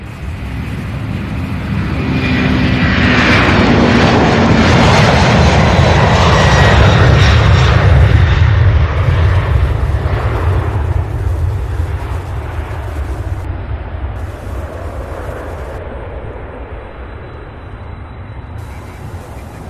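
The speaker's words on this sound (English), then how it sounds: "Coming in for landing as this A300." An Airbus A300 coming in to land at Louisville International Airport, heard as a loud, broad jet-engine roar that swells to a peak and then slowly fades as it passes.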